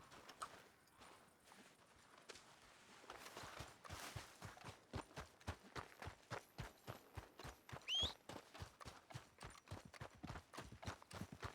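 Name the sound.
horse hooves walking in video game Red Dead Redemption 2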